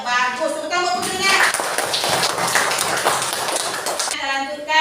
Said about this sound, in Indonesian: Ya bagus, tepuk tangan putrinya.